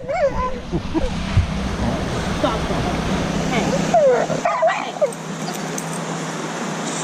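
A dog on a leash at a state park campground whimpers and lets out short yips and barks after spotting another dog, close by, while a person talks and scolds over it and a steady wash of background noise continues.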